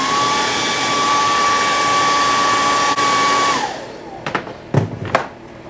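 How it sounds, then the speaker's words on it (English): An air dryer blowing on freshly sprayed RC body paint, a loud steady whine that runs for several seconds, then cuts off, followed by a few brief handling knocks. "Hit it with an air dryer again."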